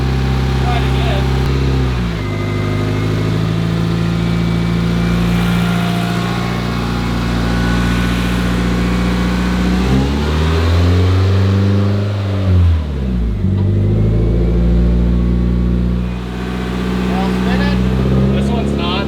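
A Mitsubishi Evo 8 that has sat unused for five years revs hard on a rack with its wheels spinning, the engine note rising and falling in a steady loud drone while people talk over it.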